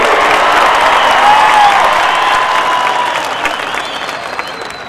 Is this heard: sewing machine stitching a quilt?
no